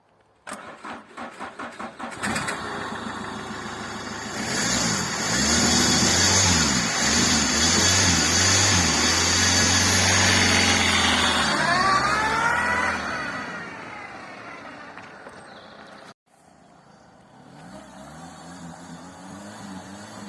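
A Citroën Picasso with its exhaust pipe pulled out cranks and starts, then revs loudly and roughly for about ten seconds before dropping back to a quieter idle.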